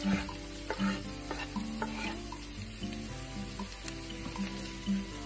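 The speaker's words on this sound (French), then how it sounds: "On le fait revenir 2-3 minutes. Je rajoute l'oignon frais." Fresh onion sautés in a pan for a Greek Lenten dish. A utensil scrapes and stirs in repeated strokes over a low, continuous sizzle, close by, with no speech.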